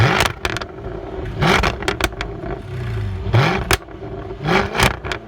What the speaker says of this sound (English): Snap crackle from that exhaust.